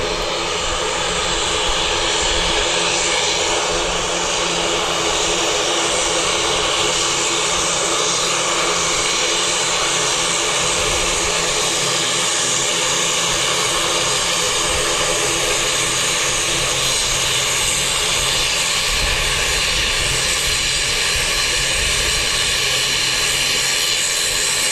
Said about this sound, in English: It's an 8-year-old ATR 72-600, delivered in September 2014.